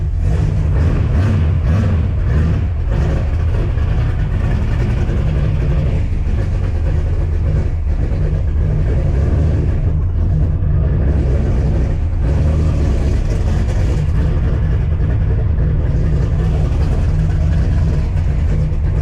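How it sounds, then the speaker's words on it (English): A car engine drones steadily through a quick test drive with a freshly reworked rear end and the fuel nearly out, a loud continuous low rumble with road noise running throughout and no talking. "let's go for a quick test drive"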